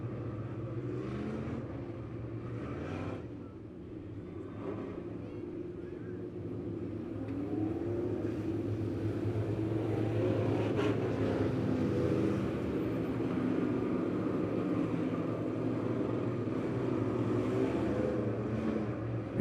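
Race cars idle and then rumble under power in single file for a restart at Lebanon Midway Speedway, a steady distant engine drone that swells gradually, with faint voices in the background.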